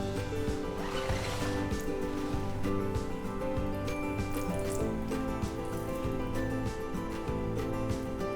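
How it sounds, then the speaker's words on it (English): A paint roller spreads thick, slightly bubbly Rust-Oleum whiteboard paint across a sample board, making a wet, sticky rolling sound with soft repeated strokes over a steady background hum. "So let me just see how it rolls on to my sample board."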